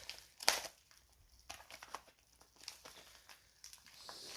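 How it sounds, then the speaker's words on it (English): LEGO minifigure packages being opened with scissors: a sharp crinkling snip near the start, then scattered plastic rustles and crackles at close range with no voices. "let's go ahead and get started with opening up these packages"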